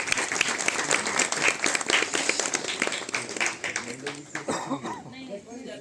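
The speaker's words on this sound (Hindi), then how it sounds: "जोरदार तालियों से स्वागत करें।" Loud, dense applause from a crowd at a retirement party for a deputy director at the Civic Centre in New Delhi, sustained for several seconds before a voice begins speaking as the clapping thins out.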